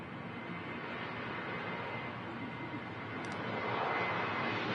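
A Ryanair airliner departs Manchester Airport, its jet engines a steady broadband roar that holds at a distance and swells slightly louder toward the end, with no talk over it.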